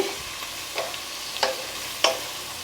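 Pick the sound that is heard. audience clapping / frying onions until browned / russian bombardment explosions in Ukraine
frying onions until browned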